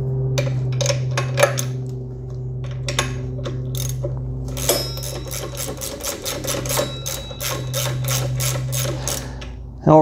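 Ratchet socket wrench loosening 17 mm bolts on an ATV during an A-arm install, a series of quick clicking ratchet bursts repeating through the clip over a steady mechanical hum, close and moderately loud.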